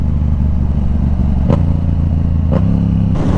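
A Yamaha R7 motorcycle with a tuned exhaust idles and rides off close by, a loud, steady engine rumble broken by two brief blips of throttle or gear changes.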